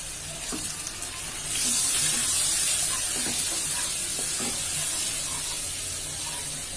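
Water poured over salt, ground coriander and chili powder in a hot pan for a beef pan pizza, a loud hissing sizzle rising sharply then settling into a steady close bubbling hiss, no voices.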